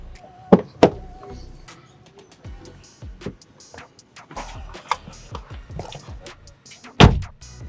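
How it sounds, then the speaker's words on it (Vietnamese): A 2011 Land Rover Freelander's car door swinging shut with a solid thud, loudest once near the end, after a few lighter clicks and knocks from the cabin, close by with no talk. "Anh chị có thể nghe thấy cái tiếng chắc nịch khi chúng ta đóng cửa."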